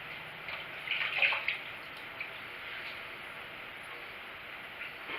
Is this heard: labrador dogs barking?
no